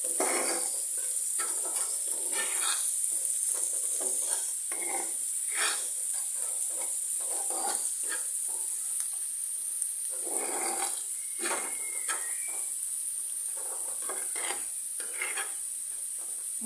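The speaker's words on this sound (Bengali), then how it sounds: "এবার আমি মশলাটা ভালো মতো কষিয়ে নেব।" A coriander and cumin spice paste fries in a pan, a soft sizzle broken by repeated scraping strokes of stirring at an irregular rhythm, close and without talk.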